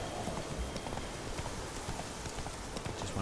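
Horse hooves clip-clop in a steady gallop rhythm as Roach is ridden in The Witcher 3: Wild Hunt, a continuous, moderately loud pattern of hoofbeats over ambient game sound.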